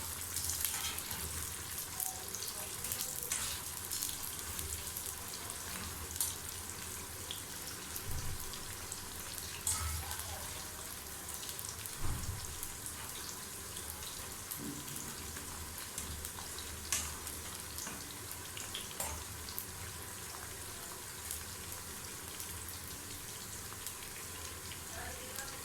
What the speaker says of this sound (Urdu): کریلے ہمارے آلموسٹ فرائی ہو چکے ہیں